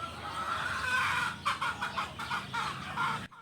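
Chicks in a brooder, a mix of hen-hatched and incubator-hatched birds, chirping and peeping in quick repeated bursts over a low background hum, close and fairly soft.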